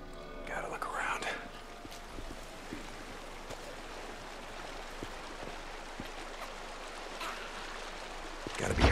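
Creek water flowing in the Days Gone video game, a soft continuous trickling stream under quiet talk, with a louder burst near the end.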